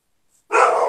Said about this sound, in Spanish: ¿Quién tiene un perrito ahí que está ladrando?